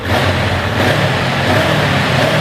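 A stock-exhaust 2022 Honda CB500X motorcycle runs nearby, its engine droning steadily with a smooth, even rise in revs and no talking over it.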